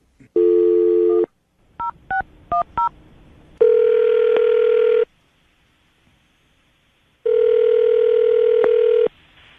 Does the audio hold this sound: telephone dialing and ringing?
yes